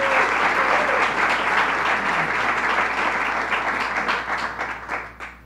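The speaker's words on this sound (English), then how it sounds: "Let's give them a round of applause." Audience at a governor's announcement about former Tappan Zee Bridge material applauding, a loud dense wash of clapping that fades out over the last second.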